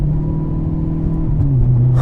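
An Audi R8 engine revs steadily, pitch climbing then shifting as it moves up through second, third and fourth gears, loud and close throughout.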